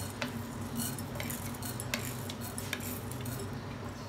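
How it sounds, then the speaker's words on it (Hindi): Whole spices such as coriander and cumin are dry-roasted in a pan for homemade tikka masala. Close utensil clinks and scraping stir the spices over a steady faint sizzle, with no talking. "अब साबित मसाले को मैं रोस्ट कर रही हूँ।"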